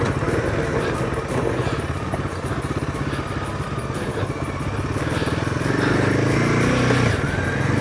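Royal Enfield Himalayan 450 motorcycle ridden along a country road near Colo River, its engine a steady close drone with a throbbing rumble that swells slightly toward the end.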